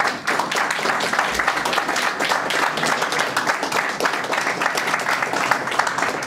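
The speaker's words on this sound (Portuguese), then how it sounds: "um grande aplauso para vocês" Audience applause fills a piano and violin recital hall, a dense, steady patter of many hands clapping at fairly strong level throughout with no letup.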